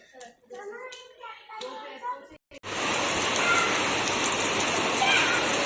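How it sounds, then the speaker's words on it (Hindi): A voice and a few handling sounds come first, then steady rain suddenly fills the scene with a loud, constant hiss. "बारिश फिर से चालू हो चुकी है"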